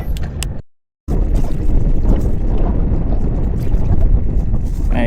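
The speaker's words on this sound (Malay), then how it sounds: "angin agak kuat ni." Strong wind buffeting a small fishing boat at sea off Johor, a loud continuous roar of gusts against the microphone with water noise beneath, broken by a brief dropout near the start.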